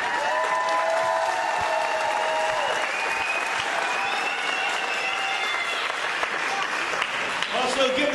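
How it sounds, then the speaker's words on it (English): A crowd at a wrestling show applauds two young wrestlers, sustained clapping with a few whoops while an announcer's voice carries over the top. "So give them a round of applause, please."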